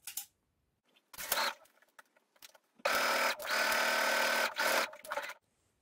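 Sewing machine stitching the sleeve of a Coco dress, with short bursts of rapid whirring stitches and then a longer sustained run, close and clear with quiet pauses between.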